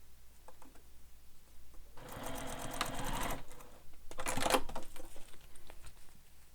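A sewing machine stitches fabric alongside a zipper for a wallet in two close, rapid bursts of rattling whir, separated by brief pauses and quieter handling sounds.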